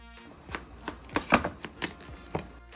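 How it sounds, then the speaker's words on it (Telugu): A knife chops through a whole washed watermelon to split it into two halves, giving a handful of crisp, separate cutting thuds and cracks close by, spaced irregularly over a few seconds. "ఇలా ఒక వాటర్ మిలన్ తీసుకొని నీట్గా కడిగి ఇలా 2 ముక్కలుగా చేసుకోవాలి"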